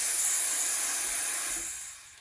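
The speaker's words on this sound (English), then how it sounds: "purge out my steam wand, get any of that old steam in there, any condensed water" The steam wand on a Breville Dual Boiler espresso machine purges with a loud, steady, close hiss that holds for over a second and then tapers off as the valve closes.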